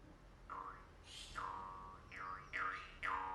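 A small Kazakh shanqobyz jaw harp brought from Kazakhstan is plucked in a few quiet twangy notes with wavering overtones, heard alone with no talk.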